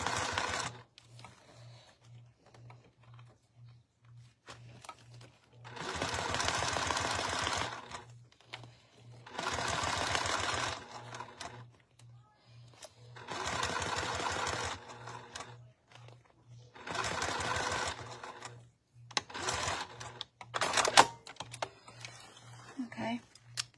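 A sewing machine stitches seams in clear vinyl in several separate runs of rapid mechanical whirring, each a few seconds long, with quiet pauses and soft handling noises between them.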